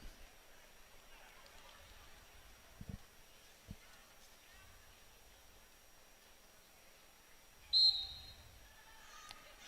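A referee's whistle gives one short, sharp blast late in the clip during a college wrestling match between Iowa and Purdue, rising above faint arena murmur and scattered thumps.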